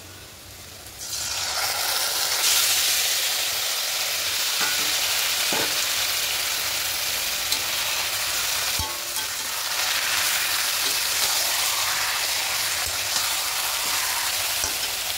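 Marinated chicken for chicken biryani sizzles and fries steadily in a hot pan, a loud continuous crackle with occasional stirring clinks and no voices.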